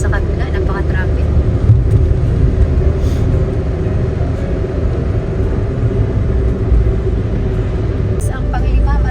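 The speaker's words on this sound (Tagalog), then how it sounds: "At sa kabila, napaka-traffic." Heavy road traffic beside a seaside bridge, a dense, steady roar of engines and tyres rumbling without a break, loud and close throughout.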